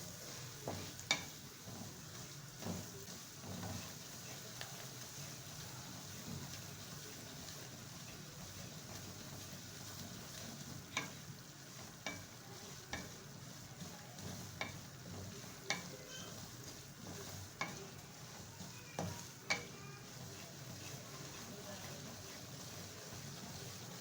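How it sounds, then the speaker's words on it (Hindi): Semolina for suji halwa fries in a pan under a faint, continuous sizzle, with scattered light scraping taps from stirring throughout, quiet and close. "सूजी को हल्का गोल्डन होने तक फ्राई करेंगे।"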